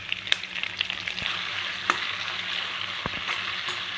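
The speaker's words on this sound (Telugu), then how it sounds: "ముందు ఆయిల్ వేసుకొని కొంచెం కొంచెం ఆవాలు ఉల్లిపాయలు టమాటాలు పచ్చిమిర్చి కూడా చేస్తున్నాను" Mustard seeds, onions, tomatoes and green chillies fry in hot oil for a chicken curry, giving a steady close sizzle with scattered sharp pops and crackles throughout.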